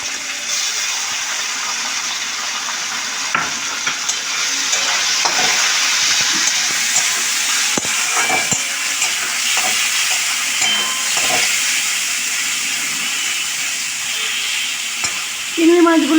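Chopped prawns go into a pan of lightly browned frying food, giving a steady sizzling hiss with stirring scrapes throughout and a brief louder burst at the end.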